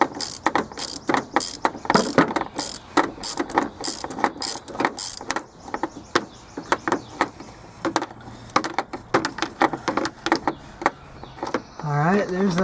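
Ratchet wrench loosening a bolt on an Acura TL, rapid clicking bursts in uneven runs, close up, with someone talking intermittently.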